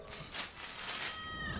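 A cartoon cat lets out a strained, drawn-out yowl, fairly quiet and wavering in pitch over about a second and a half, with no talking over it.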